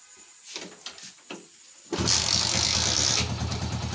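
A Hero Splendor Plus BS4 motorcycle, previously refusing to start after a wash or heavy rain, takes a few soft kick-lever thumps and then catches, settling into a close, steady single-cylinder idle putter.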